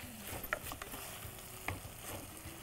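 Onion, tomato and green chillies stirred in a pan, with a soft continuous sizzle and a few sharp scrapes of the spoon against the metal, faint and steady throughout.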